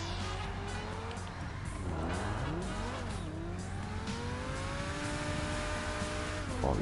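Car in GTA 5 Online driving on a custom map, engine droning and revving steadily with pitch sweeping up and down through gear changes and turns, continuous and close.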